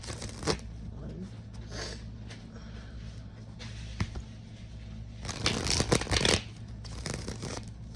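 A deck of tarot cards being shuffled in a quiet room: soft riffling bursts and crisp flutters, with a bigger run of rapid shuffling near the end over a low steady hum.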